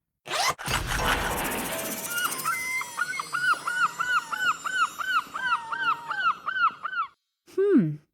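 A seagull calls in a long series of repeated, rising-falling cries, loud and close, following a burst of rustling noise at the start and ending on one lower squawk after a short pause.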